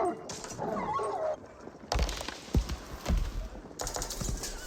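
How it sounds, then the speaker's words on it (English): Exotic war dogs in Age of Empires 4 come under attack from villagers, heard as a busy game-battle mix of yelps, thuds and clattering hits in short bursts. "those exotic doggies are getting picked off by the villagers"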